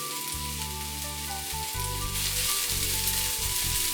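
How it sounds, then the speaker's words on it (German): Chive roots sizzle in hot oil in a pan, a steady broadband frying hiss that carries on through the whole stretch, with low rumbling underneath and no talk. "Ein Schuss Öl in die heiße Pfanne. Die Wurzel zuerst in die Pfanne geben."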